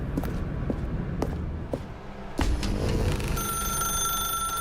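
Telephone ringing in The Stanley Parable, brief repeated rings after scattered footstep-like thumps, then a steady high electronic tone in the last second.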